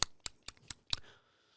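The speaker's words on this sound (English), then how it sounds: "I make clicking sounds with my tongue when I'm like this." A person makes tongue clicks, five sharp, evenly spaced pops close to the mic at a quick steady rhythm, with a brief faint hiss after the last one.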